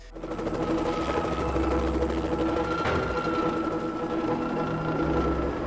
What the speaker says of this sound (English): o best friends / deputies, Donnie and Hutch, take a helicopter to investigate.